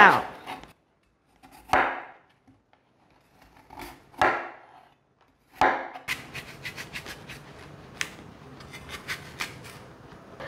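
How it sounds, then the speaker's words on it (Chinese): A knife halves an apple and cuts out the core on a board: a few separate sharp cutting strokes with quiet gaps, then a quicker run of crisp taps and scrapes as the core comes out. "把苹果对半切，把芯去掉"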